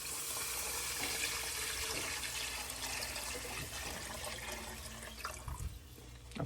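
About twelve cups of water pour steadily into a cooking pot for chicken mandi rice, a continuous splashing gush that tapers off near the end.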